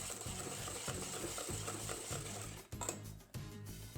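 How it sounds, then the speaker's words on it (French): Chocolate and butter cake batter being stirred in a bowl, a soft, thick rhythmic swishing and scraping repeated in steady strokes, close and quiet, with no talking. "on va venir rajouter notre mélange chocolat et beurre. Et on va venir remuer une dernière fois."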